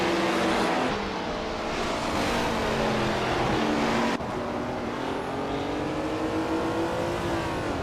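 Racing cars, prototypes and Group 3 machines, lap Cadwell Park in a racing video game, their engines revving and droning steadily with passing swells and gear changes, loud and continuous.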